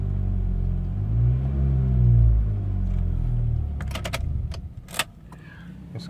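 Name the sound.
Honda Accord 2003 car engine running after key programming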